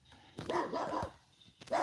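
A puppy gives a couple of close, short barks and yips, separated by a brief pause.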